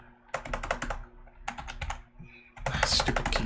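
Rapid clattering keystrokes on a computer keyboard come in three short bursts separated by brief pauses, the last burst louder and sharper, close by.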